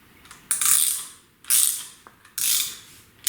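A ratchet wrench cranks down a double flare brake tool in three short bursts of rapid metallic clicking, close and clear, with quiet gaps between the pulls.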